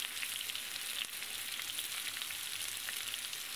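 Spices with a little turmeric frying in oil for a vegetarian jackfruit curry, a continuous quiet crackling sizzle with a brief disturbance partway through, no voices.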